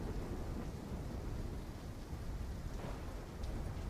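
Storm in the Call of Duty Black Ops 3 game, a steady heavy roar of rain mixed with rumbling thunder, dense and continuous, without speech.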